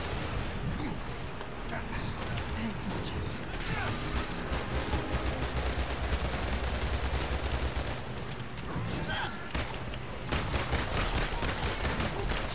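Gunfire in the video game Marvel's Avengers, Black Widow challenge, with dense rapid bursts of shots and game mechanisms continuing throughout the clip, loud and busy with little pause.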